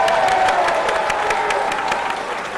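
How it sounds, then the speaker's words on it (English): Live crowd at a regional MMA event applauds the two fighters after their bout, a steady wash of clapping and cheering at moderate loudness filling the whole stretch without letup. "Give them a nice round of applause."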